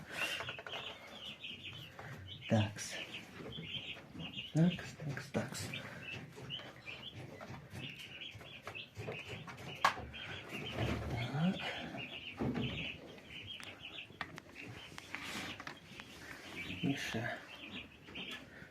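Newly hatched turkey poults and ducklings in an incubator make dense, continuous high peeping and chirping close by, with scattered soft knocks and a person talking quietly over it.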